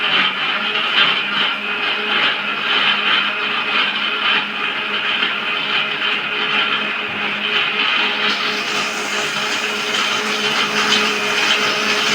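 A blender runs loud and continuous, whirring through pineapple pieces, ice cubes, sugar and milk for pineapple juice, with a brief shift in pitch partway through and no talking.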